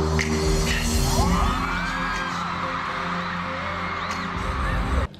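Fans screaming and shrieking continuously in a large concert crowd, a dense roar of high-pitched cheering that stays loud throughout before cutting off at the end.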